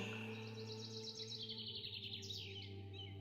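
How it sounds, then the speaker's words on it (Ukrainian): Birds chirp and trill in quick repeated phrases over a steady low hum, faint and somewhat distant, with no one speaking. "співання пташок,"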